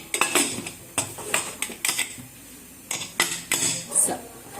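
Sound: putting lid on cooker

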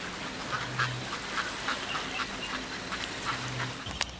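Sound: ducks quacking

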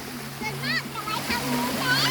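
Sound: waterfall at a water park

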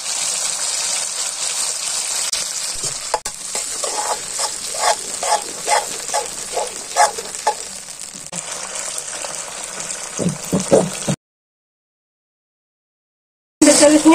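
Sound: frying onions and sausage in a pan

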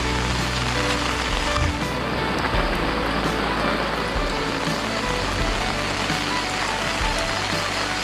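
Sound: rain falling

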